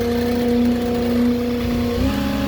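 A Moffett truck-mounted forklift's engine running steadily while the machine is positioned to deliver onto a new foundation, a loud close droning hum with a slight pitch drop near the end.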